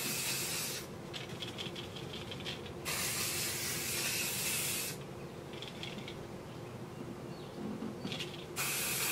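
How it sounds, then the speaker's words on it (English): Hairspray hisses from an aerosol can onto freshly curled hair, two or three sustained sprays lasting a couple of seconds each, close and clear, with quieter rustling in the gaps and no talking. "then I'm gonna hairspray this side and then do the other side."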